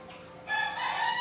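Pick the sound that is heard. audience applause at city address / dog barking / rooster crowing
rooster crowing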